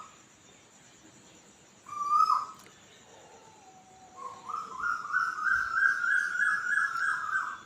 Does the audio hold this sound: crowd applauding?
no